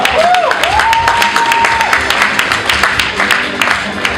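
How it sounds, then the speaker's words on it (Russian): Loud applause fills a student comedy contest hall, steady clapping mixed with crowd noise and a rising whistle near the start. "под аплодисменты зрительского зала"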